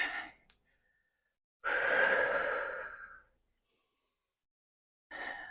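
Two slow, audible breaths during a pilates plank-to-pike exercise: a short exhale, then after a pause a long, loud breath lasting over a second, and another breath starting at the end, with no talking.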